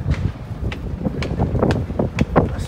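Wind gusts buffet the upper deck of the cruise ship MSC Virtuosa near the pools and running track, a rough, continuous rumble with irregular swells and bumps of microphone noise.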